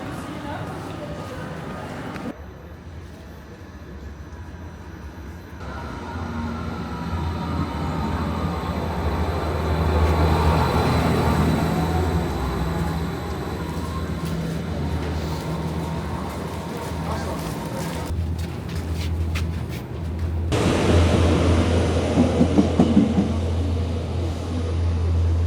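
A train ride in the Netherlands, around Groningen, Leeuwarden and Buitenpost, with a continuous loud rumble of the rail car rolling and swelling in intensity, while voices talk over it.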